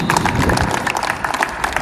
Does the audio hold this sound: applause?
yes